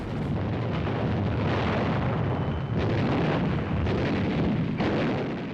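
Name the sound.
Japanese gunfire and artillery from tunnels, caves and bunkers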